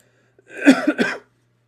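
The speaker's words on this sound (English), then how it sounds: "This cough." A single harsh cough with a couple of rough bursts, close and fairly loud, over a faint low hum.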